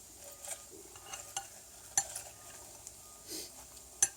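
Fresh baby spinach is stirred into a pan with a chicken dish, with soft irregular scraping and light utensil clinks over a quiet sizzle, close up, with a few sharper taps against the pan and no speech.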